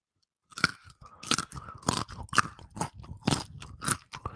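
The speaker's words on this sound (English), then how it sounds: "Just bite into it in front of the mic." Crunchy food bitten and chewed right at the microphone: loud, crisp crunches come in an uneven rhythm of about eight bites and chews after a half-second of silence, with no talking.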